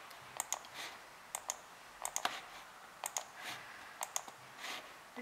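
Computer mouse clicks during an InDesign session, sharp isolated clicks in small clusters of two or three, repeating about once a second, close and fairly quiet with no talk.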